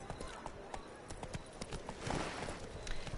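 Roach the horse's hooves in The Witcher 3, a steady clip-clop of galloping or trotting with rapid, evenly spaced hoof strikes, fairly close, with game ambience.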